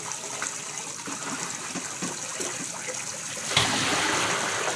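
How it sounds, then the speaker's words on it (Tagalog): Water gushes from a tap into a container being filled. The flow is steady and close, then turns noticeably louder and fuller partway through, with no talking. "magsalud ta og tubig"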